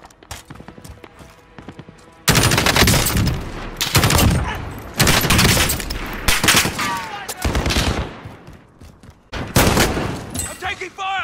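Rapid automatic gunfire in the shooter game Warzone, dense bursts of loud crackling shots in several volleys with short pauses, close and intense, with a voice briefly calling out amid the shooting.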